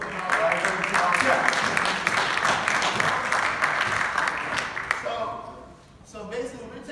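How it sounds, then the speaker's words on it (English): A live podcast audience at Hofstra University on Long Island gives a loud, sustained round of applause that fades after about five seconds, followed by a voice starting to speak. "So give yourselves a round of applause for being our live viewing audience."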